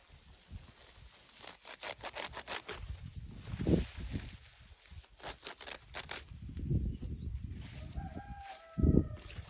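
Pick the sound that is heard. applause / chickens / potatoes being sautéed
chickens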